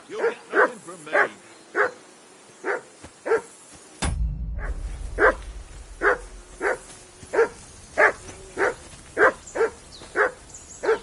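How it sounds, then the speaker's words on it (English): Repeated sharp barks from a dog in the medieval role-playing game Kingdom Come: Deliverance II, a steady run of loud, close barks with a brief gap and a low rumble partway through. "That dog of yours is barking"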